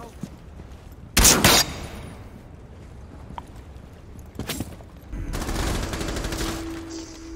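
Gunfire bursts in Rainbow Six Siege: a sharp loud volley early, a brief second shot, then a longer rapid burst near the end, with faint game ambience between.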